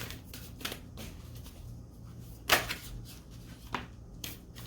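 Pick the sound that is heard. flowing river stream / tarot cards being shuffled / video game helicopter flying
tarot cards being shuffled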